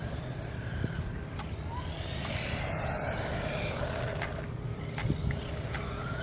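A small HBX Hailstorm 1:18-scale off-road 4WD radio-controlled truck drives around at gentle speed outdoors, its faint motor hum steady beneath light clicks and knocks, with no talking.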